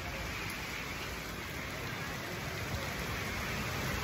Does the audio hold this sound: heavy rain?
yes